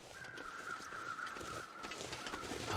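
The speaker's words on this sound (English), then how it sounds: "those crows right there are marking our kill" Crows caw in The Long Dark video game, a harsh call sustained over a steady wintry wind-like wash, moderately distant and continuous throughout.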